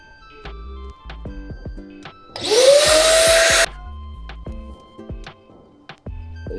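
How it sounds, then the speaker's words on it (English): A vacuum cleaner clearing dust from inside a computer bursts on with a loud rush and a rising motor whine, runs about a second, then cuts off abruptly. Scattered clicks and handling knocks come before and after. "So I have a vacuum cleaner here and I want to vacuum out"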